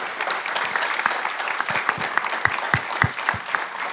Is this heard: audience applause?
yes